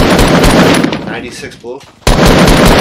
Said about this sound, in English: I'm about to shoot